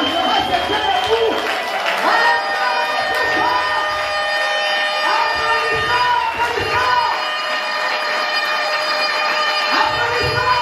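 A crowd at a political party meeting cheers and applauds loudly and without a break. Voices shout over the clapping, and a sustained tonal music or horn layer runs beneath the noise.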